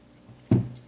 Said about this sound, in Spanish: Tenemos 2 en este extremo que conectan hacia el tubo, los cuales cortamos con una pinza